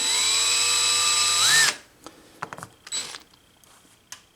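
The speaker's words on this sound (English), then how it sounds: "cut it off on the bandsaw, and make the next one" A bandsaw cuts wood for a vintage Duo Sonic guitar neck, running loud and steady for about a second and a half before winding down, followed by a few faint clicks and knocks.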